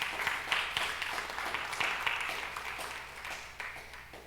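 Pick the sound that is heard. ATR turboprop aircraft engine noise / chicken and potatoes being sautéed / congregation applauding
congregation applauding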